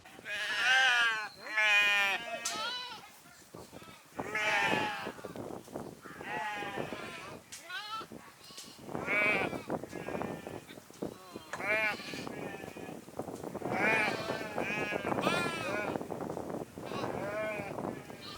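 A large herd of goats bleats in open fields in Palakkad, with many overlapping, wavering cries from near and farther animals, arriving in repeated bursts across the whole stretch.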